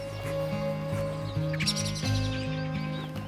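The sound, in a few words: birds alarm calling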